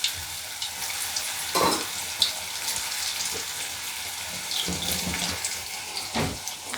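Raw banana koftas deep fry in oil in a kadhai over a medium flame, a dense, bright, continuous bubbling sizzle with a few soft knocks, close and loud, with no one speaking.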